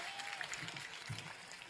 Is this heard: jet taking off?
no